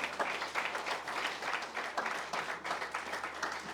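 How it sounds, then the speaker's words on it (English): An audience at an inauguration ceremony claps steadily, a continuous wash of handclaps at moderate distance with a faint voice underneath. "Resounding round of applause"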